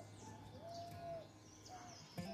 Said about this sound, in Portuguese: ouvindo esses passarinhos, o vento